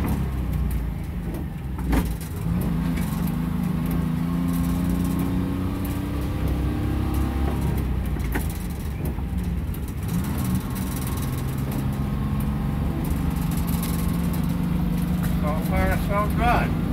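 A bus engine idles and revs steadily while gears are shifted, giving a continuous low rumble with rising and falling pitch sweeps and occasional clunks, under people talking.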